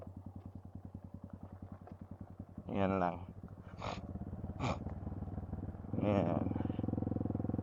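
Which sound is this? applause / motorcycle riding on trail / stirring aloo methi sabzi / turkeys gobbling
motorcycle riding on trail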